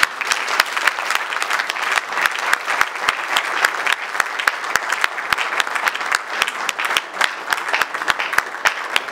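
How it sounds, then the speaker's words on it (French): A large audience at a Congolese political rally in honour of association leaders and members breaks into sustained, dense applause, loud and steady throughout with occasional crowd murmur. "j'invite l'assistance à les acclamer"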